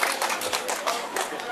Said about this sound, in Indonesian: Saya minta tepuk tangan dulu